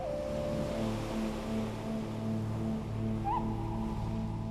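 Caribbean Sea waves wash against a wild, rocky coast in a steady, broad roar of surf, joined by sustained tonal hums that sound like background music, with no voices.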